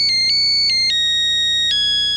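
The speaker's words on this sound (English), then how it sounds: "The Nokia Husker phone with the fight song ringer" A Nokia mobile phone rings loudly with a Nebraska Huskers fight-song ringer, its bright synthesized tones stepping through the melody in quick beeping notes, alone with no talk.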